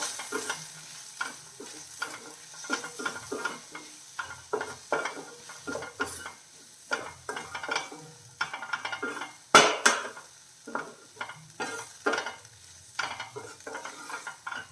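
Ladies finger being sautéed with garam masala in a pan, heard as a soft sizzle under repeated scraping and clinking of a spoon against the pan, close and irregular, with no voices.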